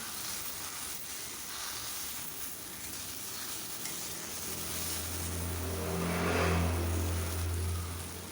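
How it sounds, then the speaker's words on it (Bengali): Water poured into a hot pan of okra cooking with bata fish sets off a soft hiss and sizzle that swells gradually, with a low steady hum underneath, all fairly quiet. "জল দিয়ে দিচ্ছি এখন আমি।"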